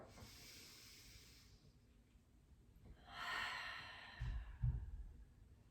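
Deep yoga breathing during a mat class pose: a long, soft inhale swells midway, followed by a few breathy exhale puffs, close and quiet.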